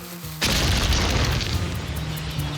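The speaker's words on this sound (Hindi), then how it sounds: "शेर सिंह ने तो उस तरफ जाने वाला पुल ही उड़ा दिया।" A cartoon bridge blown up in one sudden, loud explosion that bursts in and rolls on as a dense, sustained roar with deep rumble.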